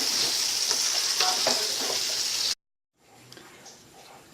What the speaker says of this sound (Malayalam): അരി നന്നായി ഇനി വറുത്തെടുക്കാം